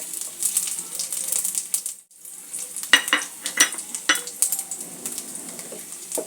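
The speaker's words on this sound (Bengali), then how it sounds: "ফোড়নটা একটু ভাজা করে নেব।" Radhuni seeds, dried red chillies, chopped garlic and a bay leaf sizzling in hot oil for a bhetki fish dish, with close crackling and spatula clinks against the pan and a brief quiet gap early on.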